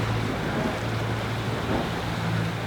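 Rough sea waves wash around a sailing boat anchored in a cove off Mallorca, a continuous broad roar of surf and water mixed with wind rumble, steady and close, with no speech.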